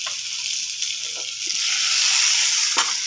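Prawns and taro root sautéing with turmeric in a wok, a steady, fairly loud sizzle running throughout with a few soft scraping taps.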